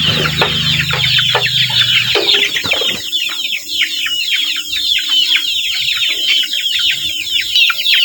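Young chicks newly moved into a range coop, not yet able to perch, chirp and cluck densely and continuously at close range in a dark setting, with a low hum in the first two seconds and no talking.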